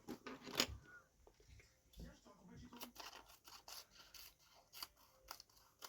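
Scissors snipping paper for scrapbooking, a string of quiet, irregular clicks and rasping cuts with light rustling of paper between them, close and soft, with no talking.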